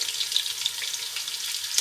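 Sliced onions for mutton yakhni pulao fry in hot oil with a steady, close hiss and crackle, dense bright sizzling that holds evenly throughout with no voices.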